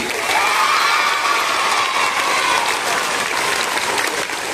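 Loud, sustained audience applause at a school tribute to teachers, dense clapping mixed with cheering and children's shouts, holding steady throughout before dipping slightly at the close.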